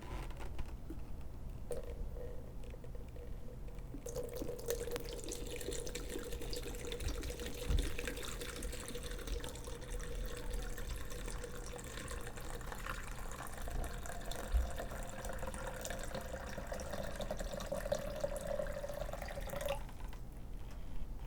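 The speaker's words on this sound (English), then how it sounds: "Now I'm pouring some water here." Water pours steadily into a humidifier's plastic tank for many seconds, a soft continuous trickle with occasional drips and small knocks, faint and close in a quiet room.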